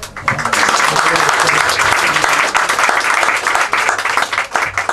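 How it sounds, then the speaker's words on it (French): Close, loud applause from a small tavern gathering for a discussion on the port, fishermen and dockers, dense and steady, then thinning into scattered claps toward the end. "On pourrait l'applaudir."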